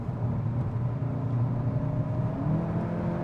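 Four-cylinder engine of a VW Golf 8 GTI Clubsport tuned to 380 hp, a steady, moderately loud droning rumble with faint harmonic tones, heard alone without talk.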